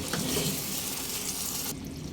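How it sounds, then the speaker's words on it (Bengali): Warm water pours into a pan of pointed gourd curry, a loud rushing splash and hiss that runs steadily for under two seconds and then cuts off, leaving a quieter simmering background. "এই পর্যায়ে হাফ কাপের একটু কম হালকা গরম জল দিয়ে দিলাম"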